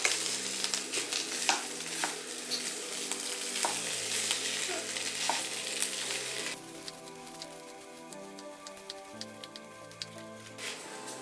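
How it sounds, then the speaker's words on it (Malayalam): Vegetable samosa filling with chopped coriander is stirred in a pan, a steady crackling fry with repeated scraping strokes, later settling into a softer, patter-like sizzle. "ഇതിനെ നന്നായിട്ട് ഒന്നുകൂടി മിക്സ് ചെയ്യാം"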